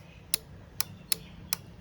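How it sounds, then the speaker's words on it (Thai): Relay inside a WelPro WELARC160 arc welder clicking as it switches, four sharp, close, distinct ticks spaced irregularly over about two seconds against a faint low hum. "ก็ฟังเสียงดีเลย์ครับ"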